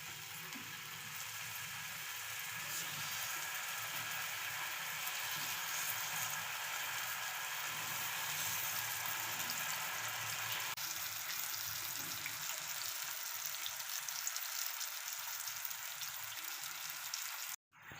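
Potato slices frying in oil on a hot tawa give a steady, even sizzle that fills the whole stretch, close and moderately loud with no voices, shifting slightly partway through before cutting off at the end.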